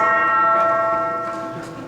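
A sustained abbey bell tone with rich ringing overtones, slowly fading as it hangs in the air, heard alone.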